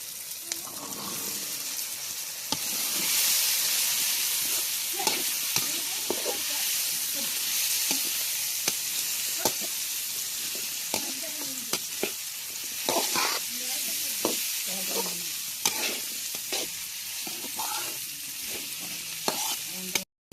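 Bitter gourd and tomato sauté in a pan with a steady, loud sizzle throughout, broken by frequent scrapes and clacks of a spoon stirring against the metal.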